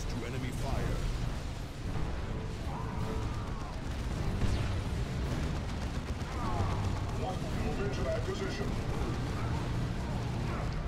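Turret gunfire rattles through a Dawn of War 2 battle with the Wrath of the Blood Ravens mod, steady dense shots and booms blending into continuous combat noise while someone talks over it.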